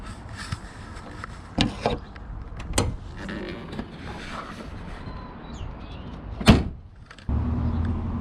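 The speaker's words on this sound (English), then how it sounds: "once you're finished checking all those fluids, you can go ahead and close your hood" An RV hood shuts after a fluid check: a few light knocks and rattles, then one sharp, loud slam up close, followed by a steady outdoor hum.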